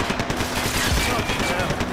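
Slowed, drawn-out gunfire in Max Payne 3 bullet time, a smeared wash of muffled shots with a continuous rumbling texture and no crisp individual cracks, steady and fairly loud throughout.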